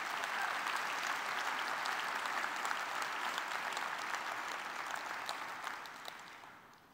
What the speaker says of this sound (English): Let's give a big round of applause to our summit sponsors.